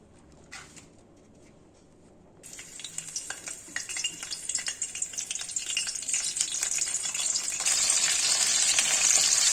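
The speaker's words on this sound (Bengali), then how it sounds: "এবার কেটে ধুয়ে রাখা ফুলকপিগুলো ভেজে নেব।" Washed cauliflower florets dropped into hot oil after potatoes were fried, starting with quiet kitchen ambience and faint bird cooing, then a sudden loud sizzle that builds and stays hissing, with occasional stirring scrapes.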